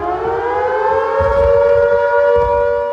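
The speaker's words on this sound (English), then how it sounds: "as flood warning sirens here in Horncastle in Lincolnshire signalled more rising water were on their way" A loud, steady wailing flood warning siren in Horncastle, Lincolnshire, holds one droning tone, close and continuous, with a low rumble underneath.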